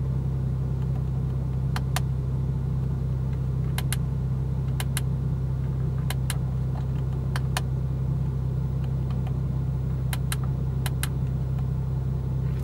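A Porsche 911 991.2 Carrera with the 3.0 twin-turbo engine hums in a steady, heavy low drone heard from inside the cabin, with sharp paired ticks repeating every second or so and no one speaking.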